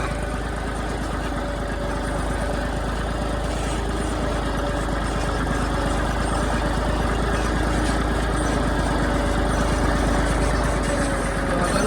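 Tractor engine running steadily in a field during castor farm work, a constant low idling rumble close by with no break for the whole stretch.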